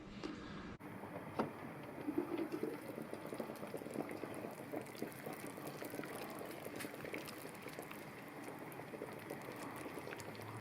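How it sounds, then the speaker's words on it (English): Pork belly simmering in a pot of boiling water, heard as a steady close bubbling and gurgling that continues unbroken with no voices. "I'm going to bring that up to a boil, and then down to a simmer for a good hour or so"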